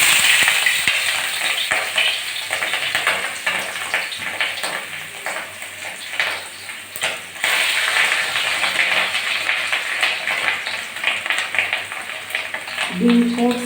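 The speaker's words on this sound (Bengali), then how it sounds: "আমি এখন ডিমগুলো লো টু মিডিয়াম আঁচে রেখে, তেলটা গরম হয়ে গেছে, ডিমগুলো আগে ভেজে নেব" Eggs frying in hot oil in a wok over low to medium heat, a steady loud sizzle and crackle that runs unbroken with a few stirring scrapes, and a brief muffled thud near the end.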